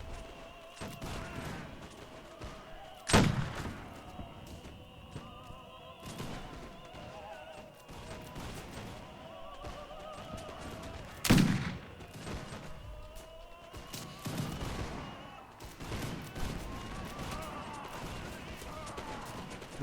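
Grenadiers firing musket volleys in the Mount & Blade Warband Napoleonic battle, two heavy booming volleys standing out over a continuous din of scattered shots, shouts and battle noise, with indistinct voices in the background.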